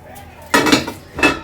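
A metal lid is lifted off a cooking pot of restaurant-style vegetable fried rice, giving two sharp, close metallic clinks a moment apart.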